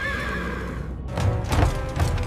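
A horse neighs loudly and close by, a rising, shaky whinny standing out over a dense rumbling background that could be hooves or a crowd, with no talking.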